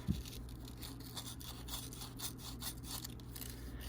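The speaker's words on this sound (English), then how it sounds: "I'm going to kind of just bevel towards the inside here with my sandpaper." Sandpaper rubs along the edges of a silver piece in quick, rhythmic rasping strokes, close but fairly quiet.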